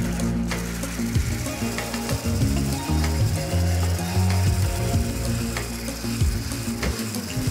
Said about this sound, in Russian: а я пока взобью хорошо охлажденные сливки